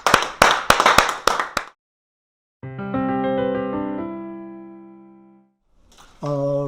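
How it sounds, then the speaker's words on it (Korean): A congregation claps in praise to God during a Korean church lecture, a dense burst of many hands in the opening seconds that stops abruptly, followed by sustained keyboard or organ tones. "하나님께 영광의 박수로."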